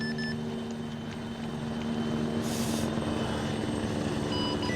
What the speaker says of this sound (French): Hélicoptère en approche pour vous récupérer, il va se poser sur fumigène vert.